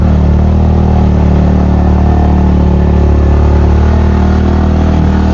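Motorcycle engine running steadily at moderate revs while riding a narrow, rising path toward a farm campground in Liliw, a continuous close drone with rumbling low tone and no talk.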